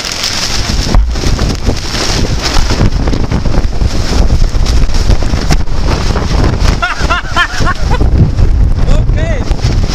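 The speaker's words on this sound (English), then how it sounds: "The wind makes noises." Strong storm wind roaring and buffeting a microphone outdoors, a loud continuous rushing noise with gusty surges, voices talking over it intermittently.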